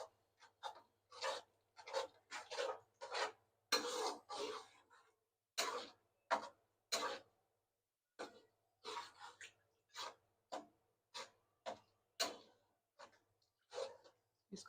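Yogurt is stirred into chana pulao in a cooking pot with short, regular scraping and rubbing strokes, each a distinct burst separated by brief pauses, close and fairly quiet.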